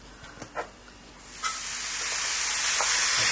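After a few light clinks, garlic, chilli and lemongrass hit a hot wok and a rising sizzle takes over, building into a steady, close frying hiss.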